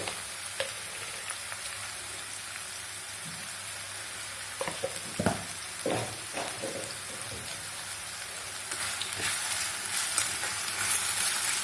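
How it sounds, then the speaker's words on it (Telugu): Ridge gourd pieces fry in a hot oiled pan with a steady broadband sizzle, while a spatula scrapes and stirs them in several clustered strokes near the middle, loud and close with no voices. "ఈ నేతి బీరకాయ ముక్కల్ని వేసేస్తున్నాను. చక్కగా కలుపుకొని"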